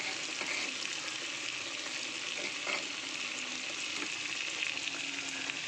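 Spices sizzle and fry in a pan with ginger-garlic-onion paste, chili powder and turmeric, a continuous, even crackling hiss with faint scraping touches, no voices over it.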